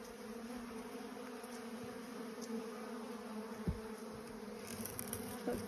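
Honey bees in a weak nuc box give off a steady, low, droning buzz that holds evenly throughout. It sounds close but fairly quiet, with a few faint knocks and no talking.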